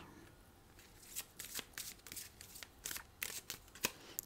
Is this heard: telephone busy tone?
no